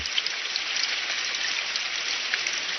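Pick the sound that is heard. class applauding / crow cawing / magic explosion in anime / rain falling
rain falling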